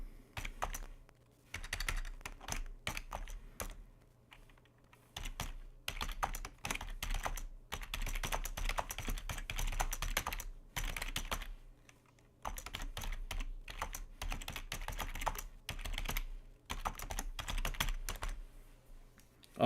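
Computer keyboard typing in bursts of rapid soft key clicks separated by short pauses, close and fairly quiet, with no talking.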